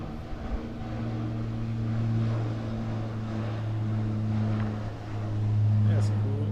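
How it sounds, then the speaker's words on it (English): A seaplane takes off near a cruise port in Juneau, its steady propeller engine drone holding loud and continuous with a slight rise toward the end, alongside faint background sounds. "there's a seaplane taking off."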